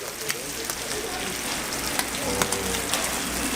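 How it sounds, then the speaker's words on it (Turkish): Kokoreç frying on a hot griddle at a kokoreç shop in Tarsus, a loud, continuous sizzle with occasional clicks and scrapes of stirring, close up. "Nar gibi kızartacak bak."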